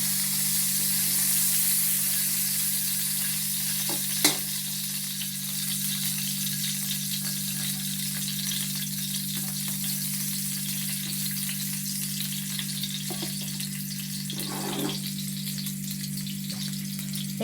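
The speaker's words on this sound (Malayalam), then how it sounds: "കുറച്ച് ഓയിൽ എടുത്തിട്ട് അടുപ്പത്ത് വെച്ച് ഇനി ഇതിലേക്ക് ചോപ്പ് ചെയ്ത ഗാർലിക് നമ്മൾ ആഡ് ചെയ്തു" Chopped garlic sizzles in hot oil in a pan on a stove, a steady close frying hiss with a constant background hum and a couple of faint clinks.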